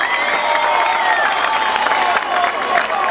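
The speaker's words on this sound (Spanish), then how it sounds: "Y yo quiero que cada uno de los dominicanos que estén aquí le den un aplauso al movimiento" Dense crowd applause rolls steadily through a Dominican patron-saint festival gathering in Nagua, with scattered cheers and whistles rising above the continuous clapping.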